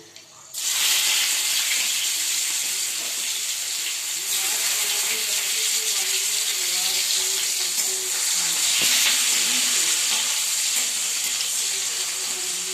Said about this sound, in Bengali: তেল গরম হয়ে গেছে, এবার আমি রসুন কুচি দিলাম তেলে